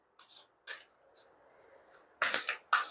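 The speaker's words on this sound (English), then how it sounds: "the sound of the cards as you shuffle them" Oracle cards made of paper being shuffled by hand, a series of short soft riffling and rubbing bursts, close and quiet, with brief pauses between them and two louder sweeps near the end.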